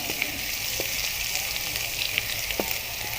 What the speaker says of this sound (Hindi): अब हम इसको बिल्कुल लो फ्लेम के ऊपर लहसुन को इतना सा भूनेंगे बस कि इसका कच्चापन ख़त्म हो जाए